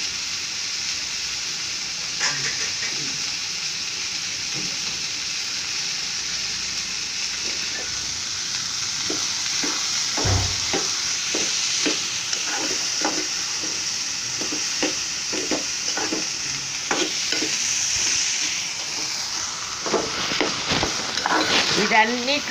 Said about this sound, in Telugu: ఇదిగోండి కస్తూరి మేతి వేస్తున్నాను.